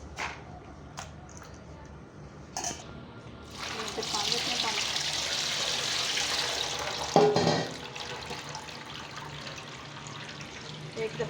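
Running water from a kitchen tap splashes as raw chicken is rinsed for a gawar ki phalli gosht curry, a steady close wash of several seconds with a brief louder splash, preceded by light clatter.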